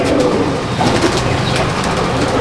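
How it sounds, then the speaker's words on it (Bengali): Pigeons in a Madrasi pigeon loft coo steadily and continuously, close and fairly loud, with soft rustling among the birds and no talk. "এই একটা জিরিয়া ব্লাডের পায়রা দেখুন"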